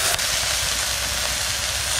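A hilsa fish, just flipped to cook its other side, fries in hot oil in a pan with a loud, continuous broadband sizzle and a brief clatter near the start; no one speaks.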